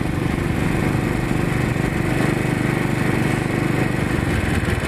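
A Royal Enfield motorcycle engine running steadily while riding, a dense continuous thrum with wind rush, loud and close, no talk over it.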